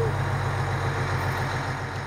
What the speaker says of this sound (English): The machine is running now.